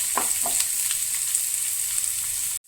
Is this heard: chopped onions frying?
yes